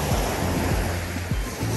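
Surf washing onto a deserted seashore in the morning at a Northern Cyprus beach, a steady close rush of waves with wind buffeting the microphone throughout.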